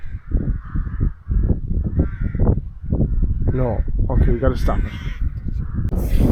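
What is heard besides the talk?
crows cawing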